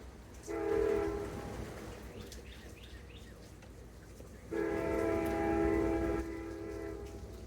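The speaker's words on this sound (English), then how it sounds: "Probably hear my train in the background." A train horn sounds twice in long sustained blasts, each lasting a couple of seconds, over the steady rumble of rail cars rolling past at a moderate distance.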